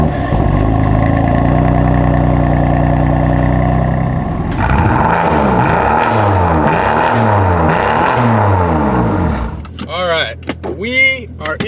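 An F80 BMW M3 fitted with an AWE catback exhaust runs loud and close, a deep steady drone giving way to a series of rising and falling revs, then the engine settles as people talk nearby.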